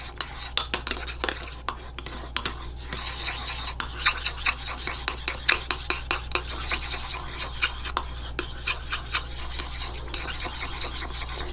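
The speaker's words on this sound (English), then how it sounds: "you're going to use a stirring rod to stir it together" A stirring rod works through a thick aloe vera lotion emulsion, giving a steady run of close, rhythmic scraping and light clicking strokes over a low background hum, with no one speaking.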